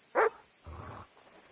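A single sharp dog bark from the video game Kingdom Come: Deliverance II, followed by a lower, softer grumbling yip, close and brief with no talking.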